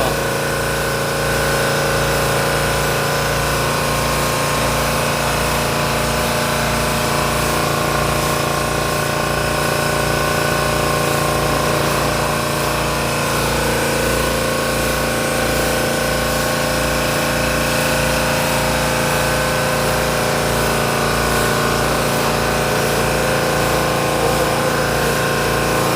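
Running engines in a ship's engine room, a loud, dense, unbroken mechanical drone with steady low throbbing and layered humming tones, filling the space without a pause.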